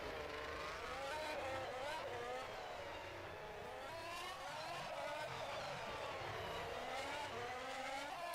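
A 2021 Formula One car in rFactor 2 at Monaco drives a continuous, loud, high-pitched engine note with wavering revs through the hairpin, steady throughout with no voices.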